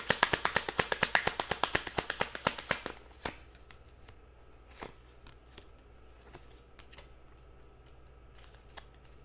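Tarot cards being shuffled and handled, a fast run of crisp close flicks and snaps for about three seconds, then quieter scattered taps and slides as a card is drawn.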